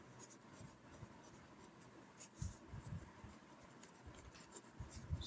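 A pen or marker writes a math equation by hand, producing faint scratchy strokes and taps in irregular bursts, quiet and close, with no voice over it.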